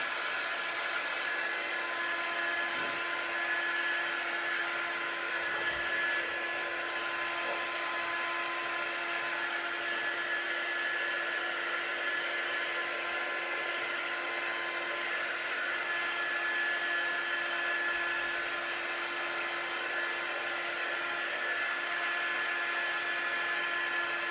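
A hair dryer blows steadily for the whole stretch while drying paint on Dollar Tree wall tile crafts, a constant close whooshing hum with a fixed motor whine and no talk.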